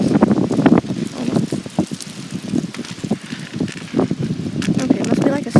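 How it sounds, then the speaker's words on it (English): Gusty outdoor wind buffeting the microphone in uneven bursts, loud and rumbling, with a few rattling knocks mixed in and a person talking over it. "Yeah, wow, that blew in the wind."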